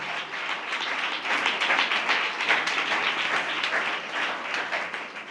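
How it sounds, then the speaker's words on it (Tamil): A church congregation claps together in praise to God, a dense, loud and sustained burst of many hands clapping that holds steady, then tapers slightly at the end. "எல்லாம் கைத்தட்டி ஆண்டவருக்கு நன்றி சொல்லுங்க"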